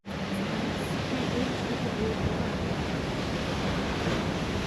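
Waves crash along the Costa Adeje beachfront in Tenerife as a loud, continuous wash of surf, with wind buffeting the microphone.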